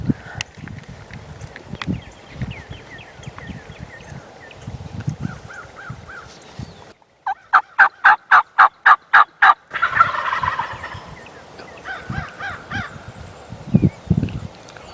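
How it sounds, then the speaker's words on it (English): Wild turkey toms gobble from a ravine, first in faint distant bursts, then a loud, close series of rapid rattling gobbles, followed by more calls and clucks. "I hear the toms that drop down in the ravine start to gobble back again"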